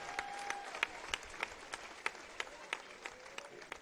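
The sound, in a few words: crowd applause in gym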